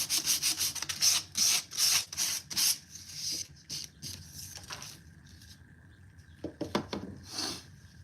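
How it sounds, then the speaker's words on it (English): Sandpaper rubbing the corner of a waxed picture frame in a quick series of short scratchy strokes, close and clear, followed by quieter scattered rubs and a few final strokes. "I'm just gonna sand this corner off a little bit"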